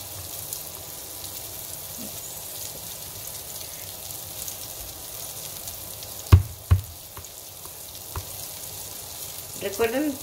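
Breaded fish frying in butter in a pan gives a soft, steady sizzle throughout, with a few sharp pops and clatters from the pan near the middle and a brief muffled sound near the end.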